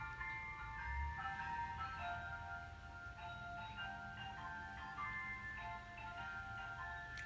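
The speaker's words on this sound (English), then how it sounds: "there's an ice cream truck going by" An ice cream truck drives past, its tinkling chime melody playing steadily at a faint, distant level over a low rumble of traffic.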